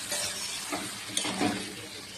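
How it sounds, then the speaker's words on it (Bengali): Fried potato and pointed gourd sautéed with cumin, green chilli and tomato in a pan, giving a soft, continuous sizzle with faint stirring scrapes, quiet and close. "এবার এই মশলাটা দিয়ে ভালো করে কষাবো। একটু অল্প করে জল দিয়ে কষাবো।"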